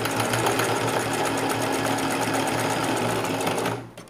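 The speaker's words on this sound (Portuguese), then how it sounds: "e vou costurar assim" A sewing machine stitching fabric for a pet's underwear runs in one steady, loud, close rattling whir for about four seconds, then slows and stops, with no talking.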